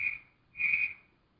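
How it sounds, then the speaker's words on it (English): Two sharp whistle blasts signal for horses to start running on a Hollywood set, each lasting about half a second with a short pause between, clear and moderately loud. "Give Slim 2 whistles, Johnny."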